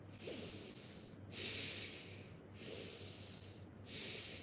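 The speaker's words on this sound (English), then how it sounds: "Breathe." Slow, rhythmic nasal breaths, four deep airy pulses in an even cycle, come from someone meditating in Shambhavi Mudra with the tongue locked, ears blocked and eyes closed, over a low steady hum.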